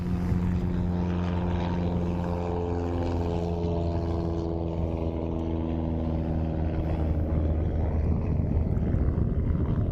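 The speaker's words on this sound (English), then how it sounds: "I'll pause while this guy takes off." A 1980 Cessna 310R's loud, steady twin propeller-engine roar drones continuously, with a deep harmonic hum that shifts slightly as the plane powers up nearby for takeoff; no voices.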